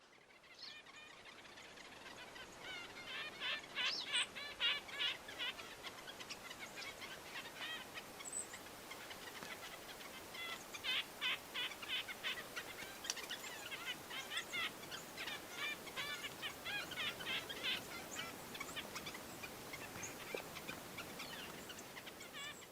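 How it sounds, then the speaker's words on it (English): Small birds chirp in the Naomi Peak Wilderness near High Creek. Faint, scattered calls come in clustered bursts over a quiet outdoor hush, somewhat distant, with no voices. "These guys, these little birds are becoming my favorite."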